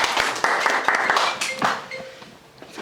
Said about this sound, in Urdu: آپ کی تالیوں میں نواز وسٹرو صاحب.